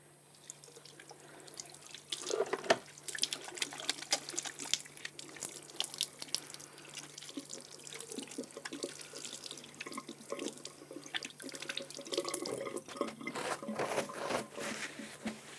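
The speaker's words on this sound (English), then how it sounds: "give my hands a little wash" Water runs from a tap at a sink while hands are washed under it, splashing and dripping in a steady wet stream that is fairly close but soft, with a faint background hum and no speech.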